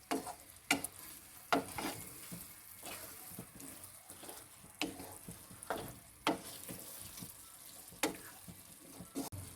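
A spoon stirs chicken daal in a pot, with water poured in, giving soft scraping strokes and quiet sizzling in an irregular rhythm of distinct knocks against the pan, close up and fairly faint.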